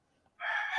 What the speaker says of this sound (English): It sounds like somebody trying to kill that rooster. Every 3 crows